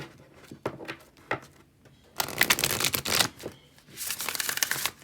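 Tarot cards are shuffled in quick riffling bursts, a few short flicks first, then two longer crisp runs of rapid fluttering clicks, close up.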